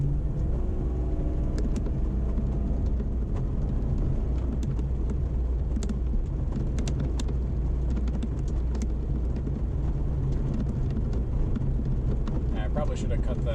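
A Lincoln Town Car on its first drive after sitting neglected, with a steady low engine and road rumble running throughout, loud and close from inside the cabin, with scattered small clicks and rattles and no talking.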